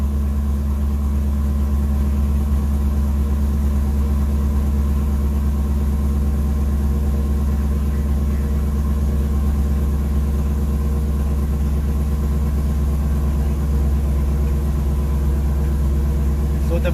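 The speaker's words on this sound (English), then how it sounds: "let's crank in the engine a bit just to show you a couple of things" A 2001 Chevrolet Corvette C5 engine runs steadily throughout, a loud, continuous low rumble close by with no clear revving.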